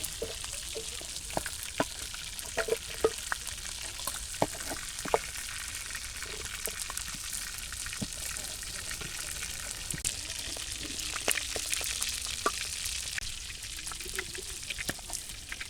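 Chicken meat frying in a pan for a home chicken curry, a steady fine crackling sizzle throughout with scattered sharp pops and spatters, moderately quiet and close, with no talking.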